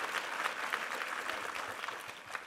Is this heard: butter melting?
no